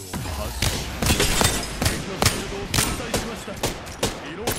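Rapid gunshots in a firefight in the battle royale shooter Apex Legends, a string of sharp, punchy cracks at irregular intervals, some bunched into short bursts, loud and close with faint voices in the background.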